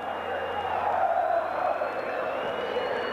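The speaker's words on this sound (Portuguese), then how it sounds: "Canta satisfeita a torcida do Palmeiras." Palmeiras supporters at the Morumbi stadium in 1999 chant after a 4-1 win over Corinthians, a broad distant crowd roar that swells and settles under a commentator's voice.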